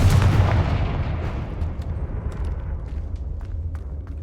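A Confringo fire blast spell in Hogwarts Legacy goes off as one loud booming burst that fades into a long rumbling tail, with faint crackles scattered through the decay.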